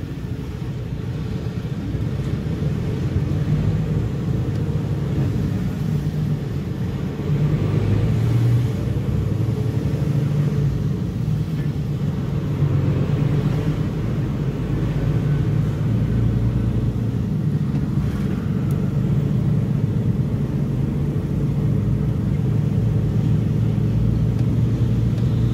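Continuous engine rumble and road noise from a car in dense traffic on a crowded road in Torre del Greco, with low drone and slight revving swells, steady and close, no talk.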